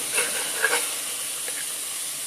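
Chicken livers cooking in a hot pan give off a steady hiss and sizzle, with a few brighter crackles and pops near the start, continuous and close, with no voices over it.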